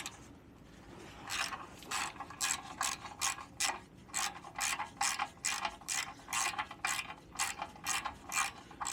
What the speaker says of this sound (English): Hopefully these ones will come off better with a ratchet.